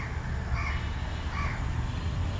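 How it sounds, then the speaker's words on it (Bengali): A crow caws twice, faint and distant, over a steady wash of background noise on a quiet morning after light rain. "ওই যে কাক ডাকছে"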